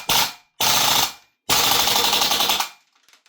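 A VFC AKS74U gas blowback airsoft rifle fires three full-auto bursts, each a loud, rapid mechanical clatter, the last burst longest, with short silences between and no talk.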